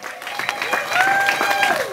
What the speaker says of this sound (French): Applaudissez pour ingénieur Christian